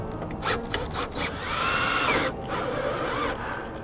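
A handheld power drill drives a self-tapping screw into a solar panel bracket on a tile roof, with short bursts of whirring followed by a sustained higher-pitched spin of about a second, fairly close.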